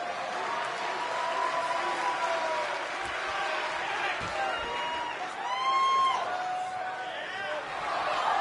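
Virtual wrestling arena crowd in the WWE 2K25 video game, a steady murmur of cheering and chatter with whistles and whoops rising midway, under a commentator's voice.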